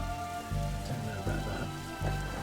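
Rain patters on a car roof in The Darkside Detective, a dense steady drumming under a soft musical drone, with no one speaking.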